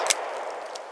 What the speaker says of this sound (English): I think that was a buckshot. Yep, kicked a little harder.